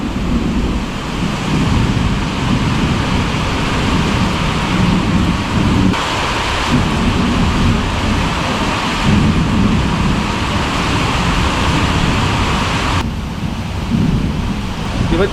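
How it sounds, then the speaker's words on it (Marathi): Heavy night rain in the Konkan region pours continuously while deep thunder rumbles and lightning cracks through it, loud and close throughout. "तिकडे वीज वीज पडली तिकडे"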